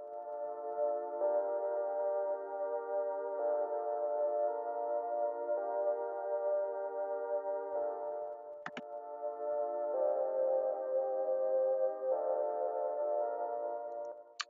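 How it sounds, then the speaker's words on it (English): A light, vocal-like Nexus pad from the J-Pack Lead 3 preset sustains minor and major chords, smooth and steady, changing every couple of seconds, with a faint click partway through and no talk. "that is just a Nexus sound from the Run a J-Pack Lead 3. And it's like a light kind of like vocal sounding pad"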